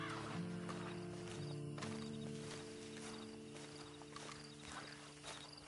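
Game horse hooves clip-clop at a steady walking pace, quiet and close, over a low sustained musical drone with a faint whinny-like tone near the start.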